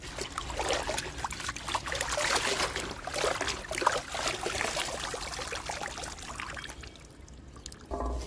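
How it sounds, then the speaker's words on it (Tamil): Freshly picked spinach greens being rinsed in water, a continuous close splashing and trickling with small sloshes as the leaves are swished about, easing off near the end, no voices. "இதை அப்படியே ஒரு அலசிடுவோம்."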